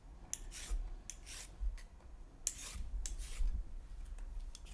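Carrots being peeled for a corned beef brisket, a series of quick close rasping strokes of the peeler, each a short scraping swipe with brief pauses between, quiet and without talk.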